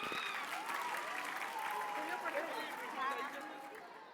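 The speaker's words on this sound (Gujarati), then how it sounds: "તો તેમનું જોરદાર તાળીઓથી સ્વાગત કરશે." An audience at a school annual function applauds a group of fourth-grade students. Broad, steady clapping runs throughout, with voices and crowd chatter mixed in, and it fades slightly near the end.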